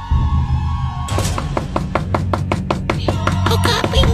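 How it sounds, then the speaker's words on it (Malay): Loud, rapid door knocking for a horror story, about a dozen hard, evenly spaced knocks that start suddenly and keep pounding close by over a low rumbling background, with no talk. "ketukan pintu makin kuat"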